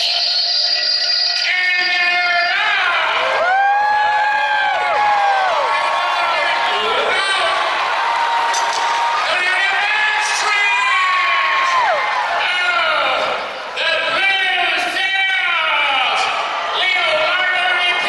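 A large crowd cheers and shouts non-stop at a racing event at the State Fair of Texas, with children yelling and whooping above a loud, dense roar that keeps going without a break.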